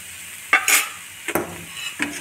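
Food is stirred and fried in a pan while cooking a chuda kakara pitha filling, with a few short scraping strokes of a spoon against the pan over a soft sizzle, close and moderately loud.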